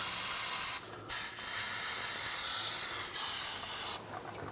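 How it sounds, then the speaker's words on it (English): Brake parts cleaner sprayed from a can onto the oil drain area of a 1997–2001 Honda CR-V, a close, steady aerosol hiss broken by a few brief pauses between bursts. "And spray a little brake parts cleaner just to get some of the oil off that drained."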